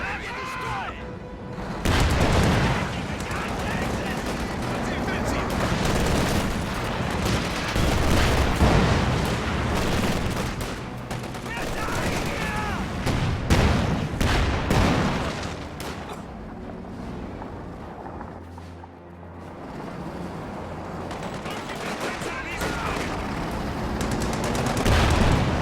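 An MG42 machine gun rattles amid heavy battle gunfire in a video game, with rapid bursts, scattered shots and booming explosions sounding loud and nearly continuous, and a voice talking over the action.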